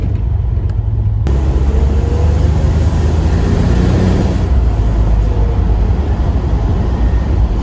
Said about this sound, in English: I can hear the wastegate flutter